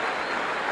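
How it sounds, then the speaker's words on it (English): A stadium crowd at the 1995 DCI drum corps finals keeps applauding the Madison Scouts, a brief wash of dense, distant clapping. "They're still applauding"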